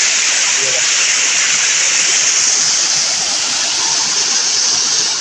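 A small waterfall stream in the Konkan countryside pours in a loud, unbroken rushing roar, close and steady throughout with no voices over it.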